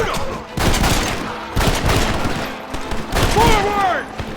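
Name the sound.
gunfire in the video game Red Dead Redemption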